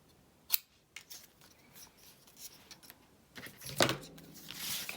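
Scissors snip paper strips while making a craft tag, a few sharp separate cuts spread over a quiet tabletop, with a louder burst of cutting near the end.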